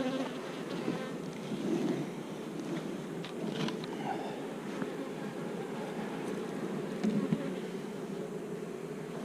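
Honeybees buzzing around an open beehive, a steady close hum of many insects, moderately loud and continuous, with a few light clicks and handling noises and no speech.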